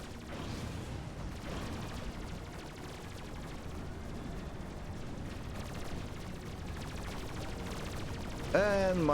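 Artillery fire in a Supreme Commander Cybran campaign battle, a dense unbroken barrage of booms and crackling impacts that holds steady and loud for about nine seconds, with a voice cutting in at the end.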